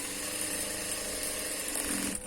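A sewing machine runs a double stitch along a neck seam, with a rapid, steady mechanical whirr and ticking close by that continues evenly and then stops near the end.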